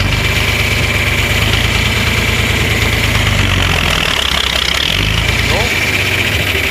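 A loud, close tractor engine drones steadily while powering a forage chopper cutting corn, a continuous heavy rumble with mechanical whine that barely changes, with a voice faintly underneath.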